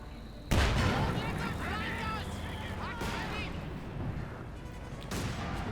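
Grenades burst in a Company of Heroes 2 one-versus-one match: a sudden heavy blast, then more booming detonations over constant battlefield din and gunfire.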